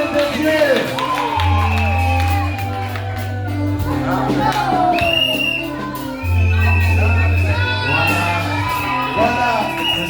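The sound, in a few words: church congregation acclaiming and cheering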